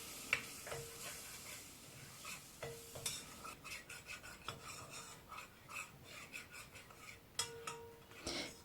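Quiet stirring and faint sizzling in a pot as a tablespoon of butter melts into toasting flour for strained lentil soup, with soft scraping strokes and occasional sharp clicks.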